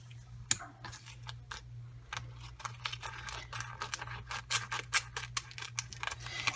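Scissors trimming a vinyl transfer sheet around a printed image for an etched Harry Potter mug: a steady series of close, crisp snips and clicks over a low hum.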